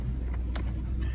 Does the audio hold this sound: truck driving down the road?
yes